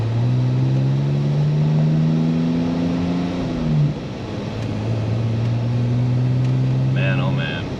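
Rebuilt BMW E46 engine pulling through the gears while driving, a loud steady drone rising in pitch, dropping at a shift near four seconds, then climbing again; a brief voice-like sound appears near the end.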